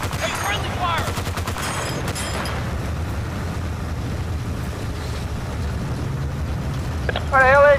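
Gunfire in the Battlefield Bad Company 2 campaign, with a burst of rapid shots early on over a steady rumble of battle, then shouting near the end.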